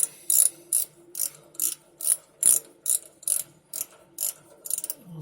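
A ratchet wrench snugs a power steering part on a 1979 Ford F-150, giving about a dozen rapid clicking strokes in a steady rhythm, close and clear with no talk.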